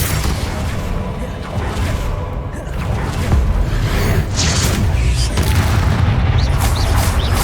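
Bombarda blasts cast again and again in a Hogwarts Legacy battle, dense booming explosions with whooshes and crashes rolling one into the next, loud and continuous with no speech.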